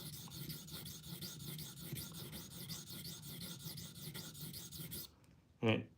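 A kitchen knife is drawn steadily across a whetstone, pushing the burr back the other way, giving a continuous gritty rasp of repeated strokes for about five seconds before a brief pause and one short sharp knock.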